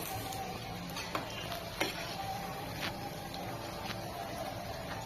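Steady crackling sizzle of fritters frying in hot oil, continuous throughout with a couple of brief clicks and scrapes as they are flipped, no talking.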